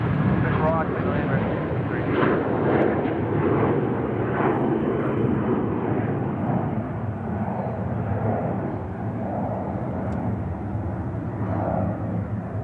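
A Jetstar airliner lands on runway 34 right at Sydney Airport, a loud sustained jet roar that swells and slowly fades, with a voice talking underneath.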